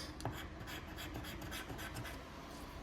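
A coin or fingernail scrapes across a scratch-off lottery card in quick, repeated rubbing strokes, soft and close with a steady rhythm and no voices.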